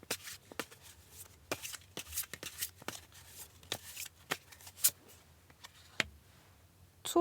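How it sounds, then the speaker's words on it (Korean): A deck of tarot cards being shuffled by hand, with quick riffling bursts and soft flicks repeating in an uneven rhythm, close-up and fairly quiet, with no talking. "조언 카드 하나 뽑아볼게요."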